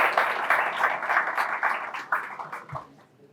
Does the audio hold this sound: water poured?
no